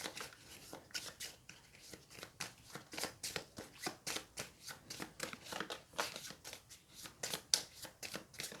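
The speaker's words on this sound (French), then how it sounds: "On mélange le paquet donc avec les 14 cartes restantes." A small deck of playing cards from the board game Mosaic being shuffled by hand, rapid rhythmic riffling snaps repeating steadily for several seconds, close and fairly quiet.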